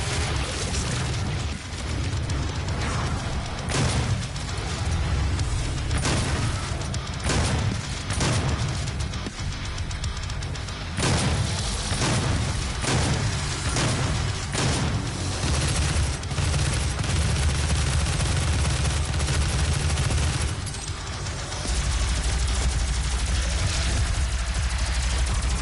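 In the Doom (2016) video game, a weapon fires its regular and alt fire at the same time, producing dense, loud, rapid gunfire bursts over a low engine-like drone, with no talking.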